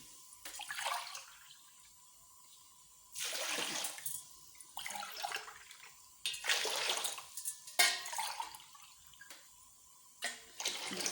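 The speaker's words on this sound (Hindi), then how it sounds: "चार गिलास मैंने पानी ऐड किया" Water is poured from glasses into a cooking pot to make sugar syrup, a series of separate splashing pours with short quiet gaps between them, close by and fairly faint.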